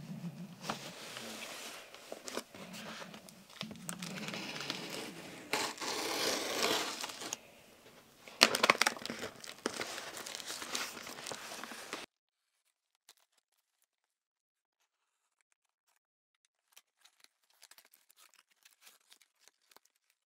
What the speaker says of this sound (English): we got to get out the fancy knife, cut this baby open